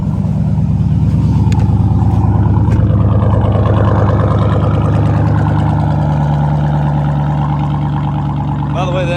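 A Jeep SRT engine running steadily nearby, a loud, deep low rumble that holds even for several seconds and eases slightly toward the end.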